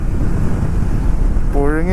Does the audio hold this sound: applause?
no